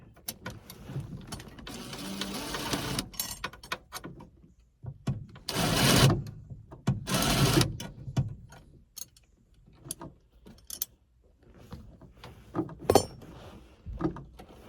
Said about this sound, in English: So I'm just going to take a self-tapping screw.